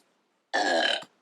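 A single loud belch comes after a short silence, close and rough, lasting about half a second before it cuts off.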